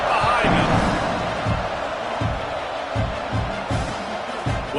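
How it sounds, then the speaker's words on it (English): A stadium crowd roars steadily at kickoff in the Madden 26 football video game, a dense, loud wash of cheering under a commentator's voice. "this crowd now ready to get behind him"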